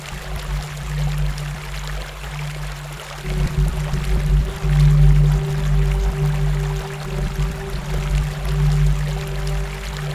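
Water flowing in a canal, a continuous rushing wash with low rumble and a steady hum throughout, fairly loud and close, with no voices.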